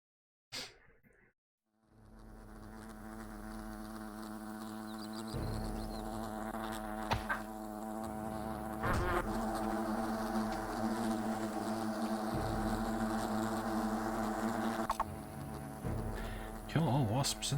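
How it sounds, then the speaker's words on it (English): Swarm of wasps buzzing in the video game Fable at a picnic area, a continuous droning hum that swells and holds for several seconds, with brief voices and thuds breaking through. "Kill all wasps in the picnic area."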